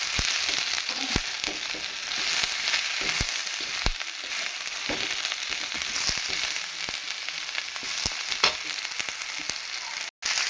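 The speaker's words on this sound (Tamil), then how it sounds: "இப்போ பீக்கிங்காக போட்டாச்சு இப்போ நல்லா வதக்கிக்கலாம்" Ridge gourd sautés in a hot pan, a continuous hiss of frying punctuated by repeated sharp spatula taps and scrapes, close and fairly loud.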